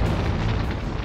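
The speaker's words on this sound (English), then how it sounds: "There are explosions on the sun. We call them solar flares." Deep rumbling explosion effect representing a solar flare on the sun, a dense, loud roar filling the low end and holding steady without a break.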